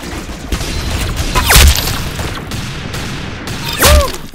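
Gunfire in the Roblox game Arsenal: two loud, sharp shots about two seconds apart, each with a booming low thump, over a background of quieter game noise.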